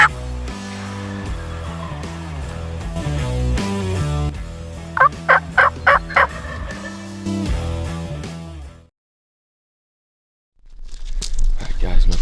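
Wild turkey gobbling in an open field in Indiana, a quick rattling burst of gobbles in the middle, faint and distant beneath a loud, muddled outdoor background, followed by silence and then a renewed rumble.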